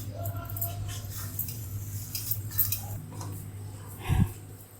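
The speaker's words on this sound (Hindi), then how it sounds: "अब इसको हम अच्छे से मिक्स करते हैं।" A spoon stirs ingredients with cumin seeds in a bowl, giving a few light, scattered clinks over a steady low hum, with a slightly louder knock near the end.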